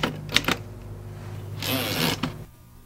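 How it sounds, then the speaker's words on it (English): In a typewriter repair shop, a few sharp mechanical clacks from a typewriter come close together, then a longer grinding, rattling burst of the mechanism before it stops. "When you type in a typewriter, they click, click, click."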